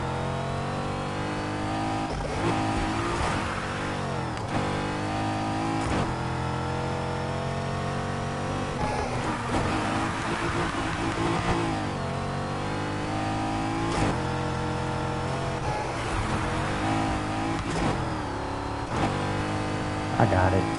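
Cars race in Need for Speed, with engines revving and shifting through repeated rising pitch sweeps as they accelerate over about twenty seconds, loud and continuous, while a person talks over parts of it.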